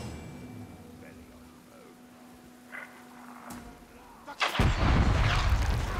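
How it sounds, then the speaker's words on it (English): Quiet Shadow of War game ambience with a few faint pops, then a loud, rumbling burst of explosions erupts and keeps booming near the end. "How is he making explosions happen?"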